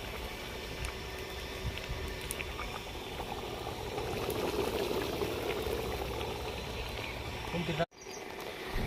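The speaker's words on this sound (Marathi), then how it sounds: "शिजतोय आता आपला पुलावा, पाणी बिणी टाकून दिले समजा।" Mutton pulao bubbles in a large pot over a wood fire at a Maharashtra village fair kitchen, a steady broadband simmering roar with outdoor noise, cut by a sudden thump near the end.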